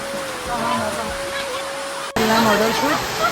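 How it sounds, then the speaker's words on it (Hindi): Heavy rain pours down in a steady, loud hiss that fills the whole clip, with a brief cut partway through. People talk over the downpour. "जहाँ पर देखो इतनी भयंकर बारिश हो रहा है।"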